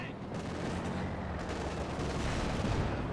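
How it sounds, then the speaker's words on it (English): Panzer IV tank cannon and bazooka fire in the video game Company of Heroes 2 on the Red Ball Express map, a dense continuous barrage of gunfire and explosions with the loud battlefield din filling the whole stretch. "Panzer IV opening fire on the MG"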